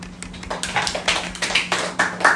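A youth church group claps their hands together in a quick, uneven burst of close, loud individual claps, with no talking over them.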